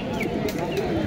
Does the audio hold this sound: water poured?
no